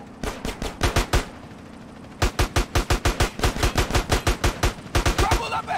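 Rapid bursts of gunfire in GTA San Andreas Definitive Edition, loud and close, firing in quick rhythmic volleys with a short pause midway before resuming in a dense run of repeated shots.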